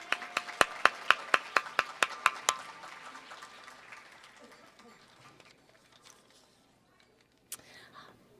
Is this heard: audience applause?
yes